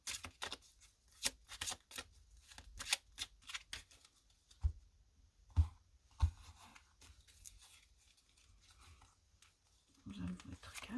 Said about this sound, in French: On va mettre des cartes du petit Lenormand, on va en mettre 4